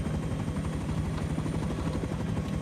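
Helicopter rotors in the game Rust chop loudly and steadily at close range, a dense, even beating that fills the whole stretch with no voices over it.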